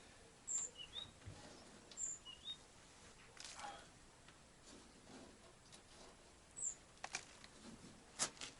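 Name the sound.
tits (titmice) singing, spring birdsong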